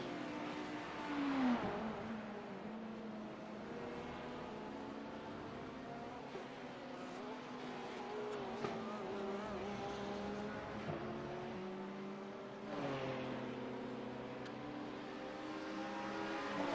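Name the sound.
race cars racing at Sebring in video game iRacing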